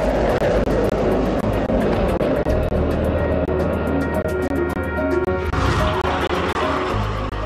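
A model rocket motor fires in a launch test with fuel that burns all at once, giving a loud, continuous roaring rush of hot gas that holds steady for several seconds before it shifts and fades near the end.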